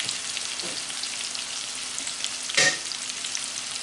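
Sliced onions frying in a pan for a steakhouse burger, a steady crackling sizzle throughout with a brief louder burst of stirring or spatter near the end.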